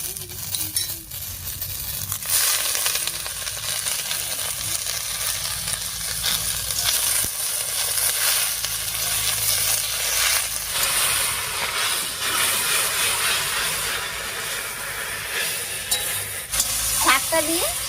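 Kanai greens tossed into a pan with garlic, green chilli and onion produce a loud, steady sizzle, overlaid by frequent scraping and clinking as the mixture is stirred.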